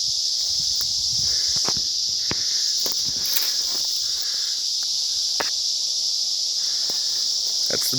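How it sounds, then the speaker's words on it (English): A dense, steady chorus of crickets or other insects fills a forest area scarred by a slow flameless burn, shrill and constant throughout, with faint rustling and scattered footsteps beneath it. "Can you hear the crazy bugs?"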